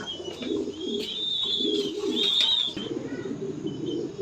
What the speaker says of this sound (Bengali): এখানে লাল ডেনিস টামলার কবুতর